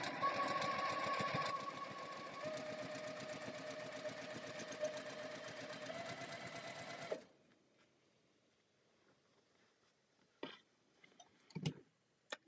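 Sewing machine stitching a seam with seam tape, running steadily and closely for about seven seconds before stopping, followed by a few faint handling clicks and taps in near silence.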